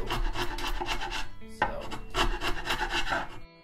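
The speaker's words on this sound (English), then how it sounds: "Nothing quite gums up sandpaper like glue." Sandpaper rasps over wood gummed with glue on a lap steel guitar being converted into an electric guitar, in steady close strokes that break briefly midway and then continue, with no talking.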